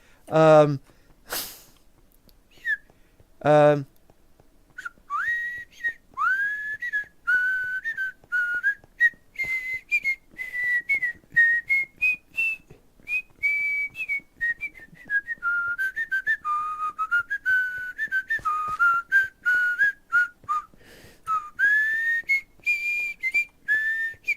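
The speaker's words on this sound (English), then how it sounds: "whistle a sea chanty" A person whistles a made-up sea-chanty tune, close and clear, in a long wavering run of short notes after a few sharp breaths or snorts at the start.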